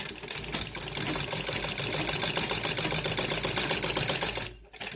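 Sewing machine stitching a seam along the length of a ladies' net cloth suit with blue thread, producing a fast, continuous, close-up rattling hum that briefly pauses near the end.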